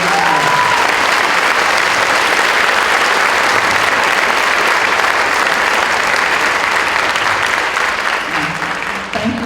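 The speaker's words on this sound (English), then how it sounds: "if you could give a big round of applause to all our Hermiston" Loud, dense applause from a large high school audience honoring staff during Teacher Appreciation Week at Hermiston High School's Evening of Excellence, a continuous roar of clapping that holds steady and tapers slightly at the end.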